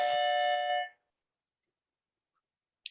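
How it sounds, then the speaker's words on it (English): A school bell signalling a class change rings with a steady electronic tone for about a second, then stops abruptly, followed by silence and a brief faint click. "I'm actually in the school building, so that was the bell to have a class change"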